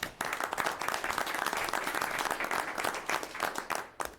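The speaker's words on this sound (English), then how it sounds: "I would like to give him a round of applause if we could." An audience claps at a town budget hearing in Harwich, a dense, steady round of applause from a modest crowd that tapers off near the end.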